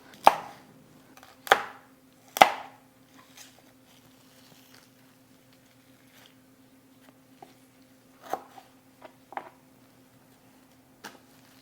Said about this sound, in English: So it says to cut off the stems.